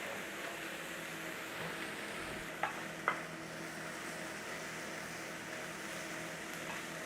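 Onion and garlic mix cooking gently in a pan over a low flame: a soft, steady sizzle throughout with two brief clinks of a utensil midway, quiet and close, with no talk.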